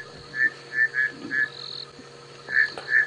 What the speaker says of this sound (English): Oh, we can hear some bushveld rain frogs calling now.